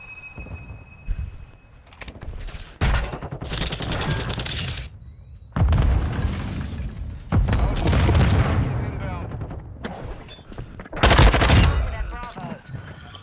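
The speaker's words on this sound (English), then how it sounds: "Okay, I got mortars going off in Bravo." Mortar blasts and rapid gunfire erupt in a Search and Destroy match on the Embassy map of a shooter game, with loud bursts and booms coming in waves.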